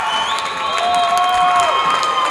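A basketball crowd at a girls' Mcloud Series game cheers and chants after a game-tying basket, a loud, sustained roar with shrill whistling tones rising above it.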